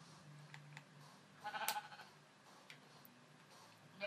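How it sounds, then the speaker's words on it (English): A single sheep bleat from the Minecraft video game on Xbox 360, quiet and brief, rises out of faint background noise with a few soft clicks around it. "Sheep!"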